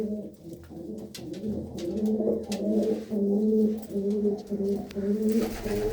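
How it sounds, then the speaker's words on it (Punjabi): A flock of loft-kept pigeons coos continuously up close, their deep, rolling calls overlapping in repeated waves with only a few sharp clicks around them. "ਚੰਗੀ ਡਾਰ ਵੀ ਆ ਇਹਨਾਂ ਕਬੂਤਰਾਂ ਦੀ"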